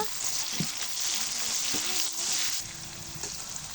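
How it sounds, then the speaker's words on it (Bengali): Onion frying in hot oil in a home kitchen pan: a steady, bright sizzle that runs throughout with a few soft stirring knocks and no talk. "ওই তেলের মধ্যে আমি পেঁয়াজটা ভেজে নেব"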